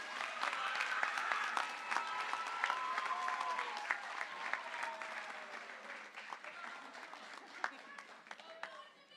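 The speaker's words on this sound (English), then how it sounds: "let's give her another round of applause for her" Sustained applause from a large audience at a junior high academic awards program fills the room, loud and steady throughout, with cheers and voices mixed into the clapping.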